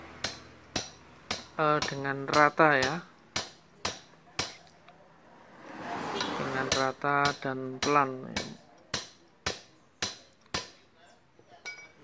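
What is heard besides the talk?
hammering a bearing into a Kubota RD85 with a pipe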